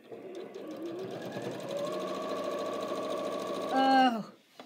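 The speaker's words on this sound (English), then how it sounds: "Now I'm ready to sew." A Janome sewing machine stitches through quilting fabric with a steady rapid whirring hum that climbs slightly in pitch, then ends with a brief whine as the motor winds down and stops.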